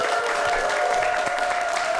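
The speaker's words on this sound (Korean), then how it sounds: "큰 박수로 한번 시범 보도록 하겠습니다." Audience applause before a taekwondo demonstration at a youth startup showcase, a dense, steady patter of many hands clapping throughout the short stretch with no break.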